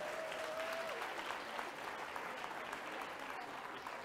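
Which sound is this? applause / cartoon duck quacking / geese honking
applause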